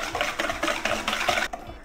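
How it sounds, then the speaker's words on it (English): Egg yolks and sugar being mixed together in a bowl, a steady run of close, rhythmic whisking or stirring scrapes that stops abruptly near the end. "I'm just going to add in all of my egg yolks. That, and then I'm just going to give all that a good mix"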